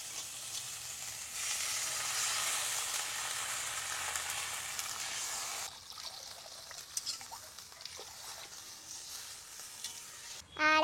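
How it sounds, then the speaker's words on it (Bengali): Fried shell-on shrimp sizzle loudly in oil in a pan. Water is then poured in, and the hiss drops to a quieter bubbling crackle, closing with a brief louder clatter. "চিংড়ি মাছ ভাজা হয়ে গেছে, তেল ছেড়ে দিয়েছে, আর এখন দেব জল।"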